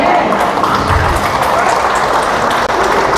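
Audience clapping at a church gathering in Batangas City, a loud, steady wash of applause from a crowd that carries on without a break.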